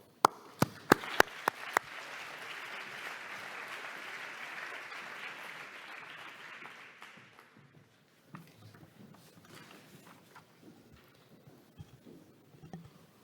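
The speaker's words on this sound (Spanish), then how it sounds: "Un aplauso." A few sharp claps, then sustained applause from a national auditing congress audience for several seconds that fades out, followed by quieter room noise and faint movement.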